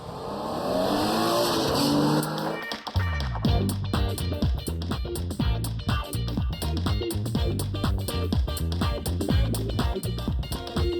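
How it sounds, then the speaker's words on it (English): A Porsche Tiptronic and a BMW M3 are driven on the road, with a loud, steady engine drone behind a strong rhythmic music beat that starts after a few seconds. "It's about time we took the two cars out on the road to see how they shape up."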